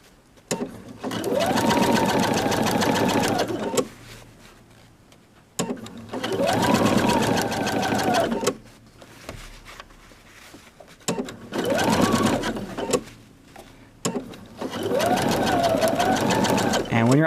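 A sewing machine understitches along a curved dress seam in four separate bursts, each a loud, close whirring run of rapid needle strokes with short pauses between.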